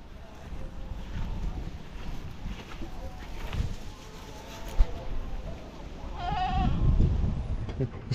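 Goats on a farm bleating near the end in a short wavering call, heard over wind noise and background rustling, with people talking nearby.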